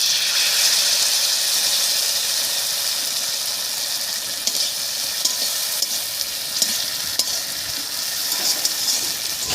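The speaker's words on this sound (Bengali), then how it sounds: "এবার এর মধ্যে দেব বেটে রাখা মশলাটা।" Gobindobhog rice fries in a pan with ground spice paste just added, producing a thick, steady hiss and sizzle with soft stirring scrapes and a few light clicks, close and continuous.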